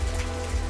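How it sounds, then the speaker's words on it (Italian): Steady rain falling in the video game Life is Strange 2, a dense, even hiss that holds at a constant level through the short stretch with no voices over it. "ci si mette pure la pioggia"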